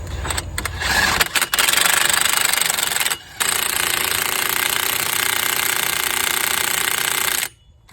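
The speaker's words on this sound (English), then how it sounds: "Now I'll put my wheel nut back on." A DeWalt impact wrench, run on setting 2, drives a wheel nut back onto the hub of a 2006 Buick Rendezvous, giving a loud, sustained rattling hammer with short pauses between bursts before it stops.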